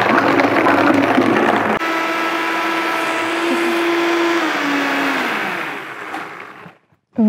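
An electric blender whirs loudly and steadily as it mixes energy bowl ingredients, its pitch shifting slightly as the load changes before it winds down and cuts off near the end.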